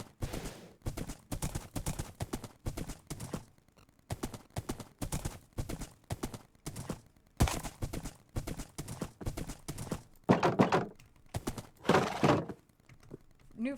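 Horse hooves clopping on concrete in a video game, a loud, close series of irregular hoof strikes with short pauses between bursts, heavier and denser toward the end, no talking.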